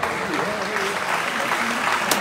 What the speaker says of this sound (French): Allez, on va s'applaudir bien fort, tous les 4.